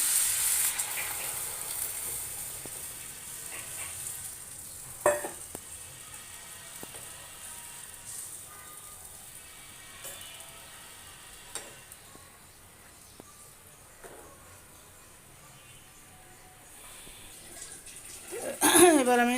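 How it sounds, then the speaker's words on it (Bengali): Water is poured into a pan of frying eggplant and small fish curry, Mymensingh style. A steady hiss and sizzle run throughout, with a sharp burst of bubbling near the end. "এবার আমি পরিমাণ মতো জল দিয়ে দেবো"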